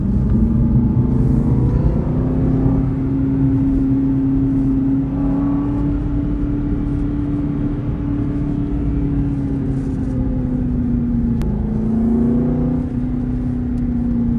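Aston Martin V8 Vantage 4.7L AMR with manual gearbox, its V8 droning steadily from inside the cabin while driving, with a sustained loud engine tone that rises and dips gently as the revs shift.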